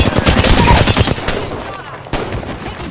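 Loud, close gunfire in the video game Apex Legends: a rapid automatic burst that dies down, then a single sharp report and further shots.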